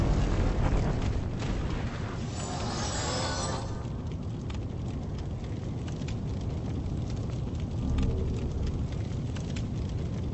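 Fire roars and crackles in Demon's Souls, a dense, steady broadband rush with a brighter hiss swelling early on and low rumbling booms underneath, sustained loud throughout with no talk.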